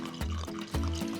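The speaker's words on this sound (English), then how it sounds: "Now I'm gonna add the special ingredient that makes this soup extra delicious, sherry. I'm gonna pour in about a cup." Sherry poured from a container into a pot of soup, two short glugging pours in quick succession, close and fairly quiet.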